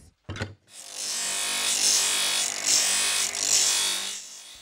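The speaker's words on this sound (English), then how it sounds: "Today, he is filing bones, part of the process required to turn them into ornate works of art." Animal bone being filed by hand, a steady close rasping scrape that runs continuously after a couple of brief knocks at the start.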